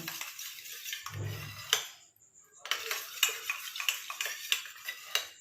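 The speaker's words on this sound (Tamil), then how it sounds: "நல்லா கலந்துருங்க" A homemade herbal hair dye oil mixture being stirred in a bowl, with light clinking and scraping taps of a spoon against the sides in an uneven rhythm, close and fairly soft, pausing briefly midway.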